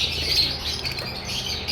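Personata lovebirds, albino red-eye and blue breeder pairs kept in cages, giving a dense chatter of high chirps and squawks, fairly close and steady through the moment.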